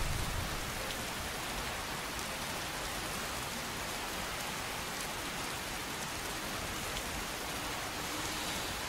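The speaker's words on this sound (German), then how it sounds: "Ach, ich hasse Regen." Steady rain falls in Skyrim SE, a dense, even hiss of drops with no breaks, moderately loud and filling the whole scene without any voices.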